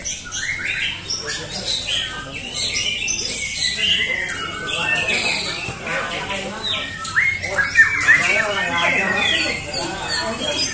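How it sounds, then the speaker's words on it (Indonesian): White-rumped shama (murai batu) songbirds singing in a bird-song competition, with dense overlapping chirps and whistled phrases heard over crowd chatter and voices. "pertarungan burung murai batu"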